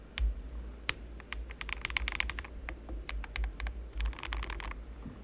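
Computer keyboard keys clatter in quick irregular bursts of typing, close and fairly quiet, with a steady low hum beneath and no voices.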